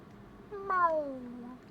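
A cat in the Hogwarts video game gives a single drawn-out meow that falls in pitch, close and moderately loud over a quiet background.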